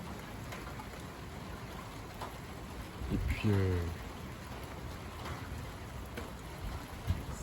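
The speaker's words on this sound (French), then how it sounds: "Voilà, les pluies sont arrivées, hein. Donc il pleut" Rain falls steadily under a gusty southwest wind during a winter rain front, a soft, continuous patter and hiss, with someone speaking briefly in the middle.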